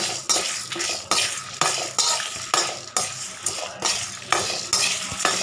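Dry lentils being roasted and stirred in a pan for millet sambar rice, a steady run of rhythmic scraping strokes of a spoon against the pan roughly every half second, close and moderately loud, with a light sizzle and no talk.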